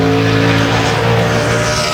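A NASCAR Sprint Cup car at Watkins Glen qualifying, engine roaring loud and close as the driver goes in and out of throttle through turn 5, with steady harmonic drone and some tire squeal.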